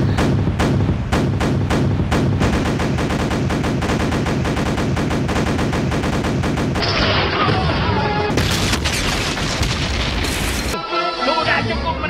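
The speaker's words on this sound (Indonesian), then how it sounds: "Perang pun dimulai dengan hujan peluru meriam ke arah kapal Kapten Nobita" Cartoon cannon fire in a Doraemon pirate-ship battle: a loud, relentless barrage of rapid booms and blasts rolls continuously with no pauses, then shifts into denser crashing effects near the end.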